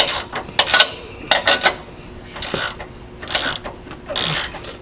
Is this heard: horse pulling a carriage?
no